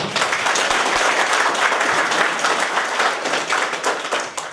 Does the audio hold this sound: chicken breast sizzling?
no